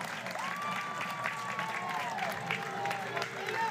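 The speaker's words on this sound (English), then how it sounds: "That is them chanting for Boone." A softball stadium crowd chants for batter Riley Boone, a broad sustained roar of many voices with drawn-out tones, while a commentator talks over it.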